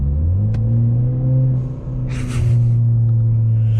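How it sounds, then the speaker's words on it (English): Turbocharged 2017 Ford Fusion engine droning loudly up close, with a brief airy hiss of the blow-off valve releasing midway before the engine note resumes. "That's the blow off valve."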